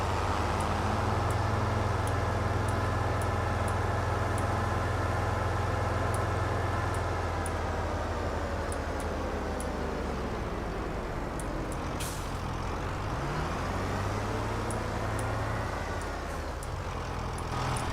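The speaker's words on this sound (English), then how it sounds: "I'm trying to do an endo in a tractor." A tractor engine in Farming Simulator 25, a loud steady diesel drone with shifting pitch as it revs and strains, accompanied by faint repeated clicks.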